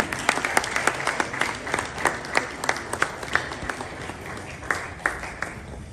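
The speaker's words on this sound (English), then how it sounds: "Please, a round of applause for him as he takes the podium." An audience at an official state meeting between the Czech President and John Mahama in Ghana applauds a speaker taking the podium, a steady burst of clapping with sharp individual claps standing out.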